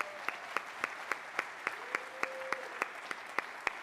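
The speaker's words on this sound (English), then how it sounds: "We'd like everybody for a round of applause" An audience at a college anniversary celebration gives a round of applause, a soft crowd clatter with distinct, evenly spaced loud claps standing out near the microphone.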